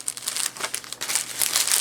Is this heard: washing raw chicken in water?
no